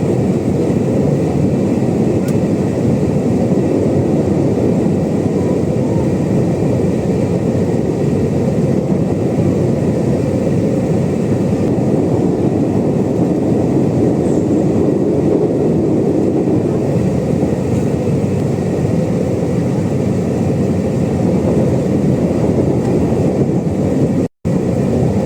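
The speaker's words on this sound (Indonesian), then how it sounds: "sesaat lagi kereta akan tiba di Stasiun Brambanan" Interior of a KRL commuter train running on the Jogja-Solo line, a steady loud rumbling roar of wheels and motors that continues unbroken throughout, with no voices heard.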